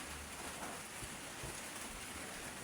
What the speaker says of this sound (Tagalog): Ulan na makaroon.